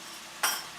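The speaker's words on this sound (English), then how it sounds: "And then we are adding, and then we give quick stir." A quick stir of sauce in a pan while cooking vegan, gluten-free mushroom ramen: one brief, soft scraping swish midway, alone against a quiet kitchen background.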